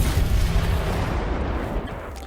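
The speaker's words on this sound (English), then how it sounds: "that loud bang that goes kind of in a wave" A Star Wars Battlefront explosion: a deep, loud rumbling boom that rolls outward in a wave and slowly fades over about two seconds.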